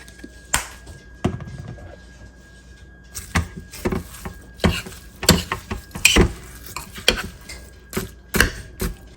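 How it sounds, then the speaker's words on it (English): Butter sauce being whisked as it thickens in a pan, a rapid, irregular clatter of whisk strokes that comes in near, sharp bursts with brief pauses, no voice alongside. "I'm just going to keep on whisking for a few minutes"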